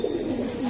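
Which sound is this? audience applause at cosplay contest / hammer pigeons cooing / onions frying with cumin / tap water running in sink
hammer pigeons cooing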